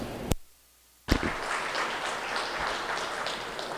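A crowd at a Mini Zebu cattle show at the Colorado State Fair claps for a young exhibitor with a bull. There is a brief drop-out early on, then a loud, sustained wash of applause from many hands.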